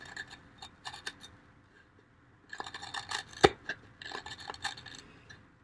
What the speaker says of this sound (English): It's cutting that oak beautifully.